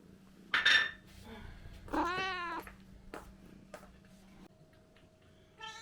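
A cat being fed a traditional Ukrainian pickle soup lets out a loud, close meow, then a longer drawn-out wavering yowl, followed by quieter short calls and small kitchen clatter in a quiet room.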